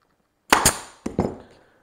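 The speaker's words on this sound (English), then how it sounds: "Staple in." Staple gun driving staples into upholstery fabric over a seam, four sharp snapping shots in two quick pairs, close and loud with no talk.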